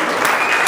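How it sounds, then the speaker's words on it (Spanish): A church congregation breaks into loud, sustained applause during a Sunday morning service, a dense steady wash of clapping hands that fills the whole moment. "Denle un aplauso fuerte al Señor esta mañana"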